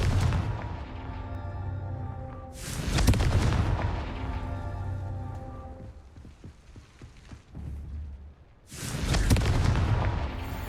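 Confringo fire-spell blasts in Hogwarts Legacy land as heavy, booming explosions, three loud impacts spaced a few seconds apart, each trailing off into a rumbling, crackling decay with lighter clatter between.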